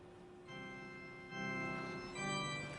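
A Shepard tone resynthesis of a song gives a quiet, smooth organ-like chordal tone, with sustained notes shifting in a few steps, no voices.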